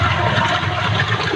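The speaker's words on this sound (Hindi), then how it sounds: "ये बोरिंग है इसमें पूरा का पूरा पानी नीचे जा रहा है।" Rainwater gushes down into a borewell during monsoon harvesting, a steady close rushing, gurgling roar of falling water running continuously with no voices.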